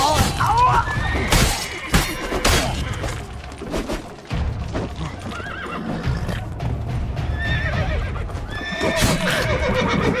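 Horses in The Witcher 3: Wild Hunt's Blood and Wine expansion, with loud repeated neighs and whinnies over clip-clopping hooves, mixed with game action sounds and a few crashing impacts throughout.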